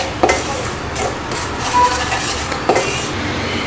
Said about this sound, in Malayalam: നന്നായിട്ട് ഇതൊന്ന് ഇളക്കിയെടുക്കാം